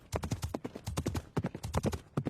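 Rapid, crisp clip-clop of a horse's hooves in a Filipino cartoon animation, a quick run of close, loud, evenly spaced hoofbeats heard alone without talk.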